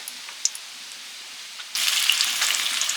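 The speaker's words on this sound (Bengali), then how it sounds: "সেদ্ধ করা আলুগুলো ভেজে নেব দমের জন্য" Boiled new potatoes with thin skins hit hot mustard oil and start frying, a quiet hiss suddenly jumping to a loud, steady sizzle that crackles on to the end with no talking.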